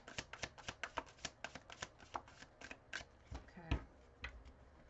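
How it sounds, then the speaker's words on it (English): A deck of cards is shuffled close up, a quick run of crisp papery clicks and flutters ending in a softer thump as the cards settle. "We'll shuffle them together and do a full shuffle"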